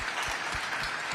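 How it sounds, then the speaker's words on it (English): A short burst of audience clapping in a television studio for the first Bahamian woman in space, moderately loud and continuous, with no speech on top. "please clap to that"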